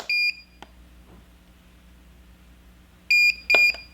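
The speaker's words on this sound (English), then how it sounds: "you hear the double beep, which means it's on the medium hold time" A single short electronic beep from a Therabody RecoveryAir, then quiet, then two quick high-pitched beeps in succession near the end setting medium hold time; no talking.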